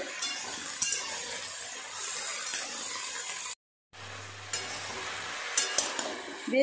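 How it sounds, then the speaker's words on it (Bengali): Mixed vegetables stir-fried in a pan with panch phoron spices, a soft steady sizzle punctuated by scraping spatula strokes and light clinks, briefly cut to silence midway before resuming. "বেশ কিছুটা সময় নিয়ে সবজিগুলো একটু নেড়ে চেড়ে ভেজে নিয়েছি।"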